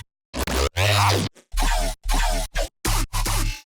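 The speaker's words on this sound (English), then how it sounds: "I added these bass growls to fill the empty space in the drop." Growling future bass synths from a drop, a series of short and mid-length buzzing, wobbling bursts with abrupt cutoffs and silent gaps between them, moderately loud.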